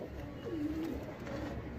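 A pigeon coos softly at a rooftop loft of Delhi flying pigeons, one low rolling call rising out of a quiet outdoor background with no voices.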